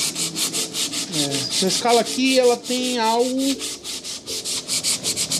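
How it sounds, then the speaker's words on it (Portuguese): Sandpaper rubs back and forth over a ukulele's wooden fretboard, which loses its colour as it is sanded, in a steady scraping rhythm heard close up under someone speaking Portuguese. "Conforme a gente tá lixando aqui, ela tá perdendo a sua coloração."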